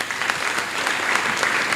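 A live audience claps steadily for a visiting guest from the United States at a forum, a dense, even patter of many hands filling the room without a break.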